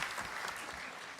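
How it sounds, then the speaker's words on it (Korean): A seated audience at a manufacturing AI solutions pitching day applauds a company representative after a presentation, giving a brief, soft, continuous burst of clapping that lasts only a moment. "발표에 수고해 주신 우리 대표님께 박수 한번 보내주시겠습니다"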